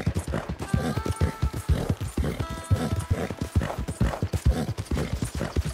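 Horse hooves clip-clop in a steady walking rhythm in the Western video game Red Dead Redemption 2, close and clear, with a short whinny partway through and faint background ambience.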